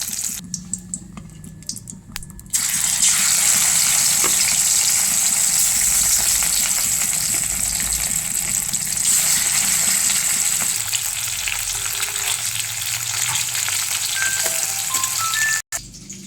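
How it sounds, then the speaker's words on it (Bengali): Katla fish sizzle and crackle steadily in hot oil, a loud, continuous frying hiss that runs throughout with faint scraping and stirring, and no voices. "এই মাছগুলো ভাজা হয়ে গেছে, এগুলো এখন উঠিয়ে নেব, বাকি পরের মাছগুলো দিয়ে দেবো"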